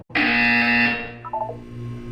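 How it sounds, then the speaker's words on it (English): A loud, sustained electronic buzzer from the video game Portal 2, holding steady for about a second before fading into a softer tail with a few brief descending tones. "You will hear a buzzer."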